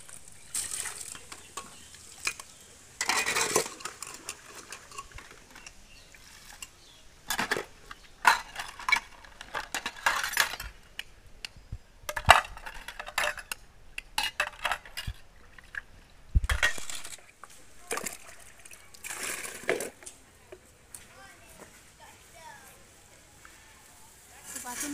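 Dishes, pots and cutlery being washed in a home kitchen, with intermittent clattering and clinking bursts, some sharp and close, over running water and a talking voice.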